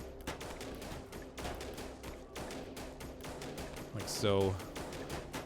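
Rapid crackling sniper gunfire from They Are Billions, a steady stream of sharp shots against a busy battle din, with someone speaking briefly over it and a descending tonal effect near the end.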